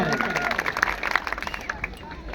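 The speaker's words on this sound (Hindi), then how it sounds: "एक बार जोरदार ताली से स्वागत करें।" Audience applause at a speech gathering welcoming the next speaker, a crowd of scattered hand claps rising and falling over brief murmurs and background babble.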